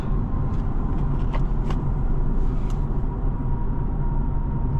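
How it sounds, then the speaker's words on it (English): Steady interior road noise inside a 2025 BMW 330i M Sport on the move, a constant low rumble and hum with a few brief faint clicks, no talking. "Yeah, it's a comfortable car to drive."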